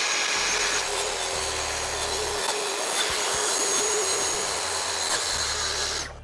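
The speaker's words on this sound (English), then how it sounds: "With my track saw in place and my depth set at 1 inch," A track saw set to a one-inch depth cuts through a 2-inch thick wood slab with a loud, continuous high whine and rushing roar, held steady for several seconds before cutting off abruptly at the end.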